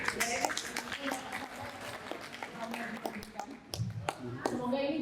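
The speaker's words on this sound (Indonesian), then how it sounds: "jadi mungkin boleh tepuk tangan." Scattered, fairly quiet clapping from a small audience at a book launch and discussion in Solo, with sporadic sharp claps mixed among people talking nearby.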